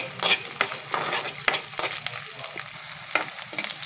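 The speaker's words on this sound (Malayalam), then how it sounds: "ഇത് ഉള്ളി ഇട്ടൊന്ന് വഴറ്റി" Sliced onion with cumin sautés in hot oil in a pan for a Kerala-style tender jackfruit stir fry, sizzling steadily up close while a spoon stirs and scrapes in repeated quick strokes, with no talking.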